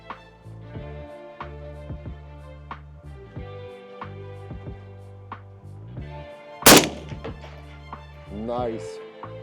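A single sharp, loud AK47 rifle gunshot at a shooting range cracks out late in the clip, standing out above steady talking that runs throughout.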